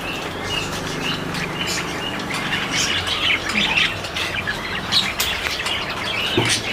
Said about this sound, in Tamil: நெக்ஸ்ட் பார்த்தீங்கன்னா கீழே இது ஃபின்ச்சஸ் இருக்குது